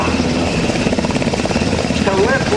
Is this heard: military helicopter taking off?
yes